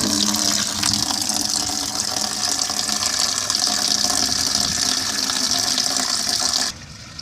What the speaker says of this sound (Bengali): প্রথম আমি আমার এই কুড়ি লিটার একটা বালতিতে হাফ বালতি জল নিয়ে নেব